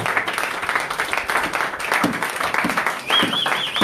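Congregation in a church service clapping steadily, a dense wash of applause with some cheering voices, close and loud throughout, a sung or shouted tone rising near the end.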